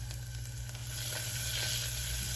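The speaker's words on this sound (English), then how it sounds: "let this cook and brown for about 3 minutes" Chopped food sizzles and browns in a hot pan, a steady, soft crackling hiss that holds evenly for a couple of seconds with no voices.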